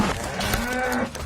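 A dairy cow gives one long, loud, close moo that fills the whole moment with no other sounds.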